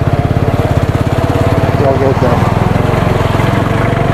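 An Apache motorcycle engine drones with a steady, rapid pulsing throb while riding a narrow mountain road, loud and close throughout, with someone briefly speaking over it.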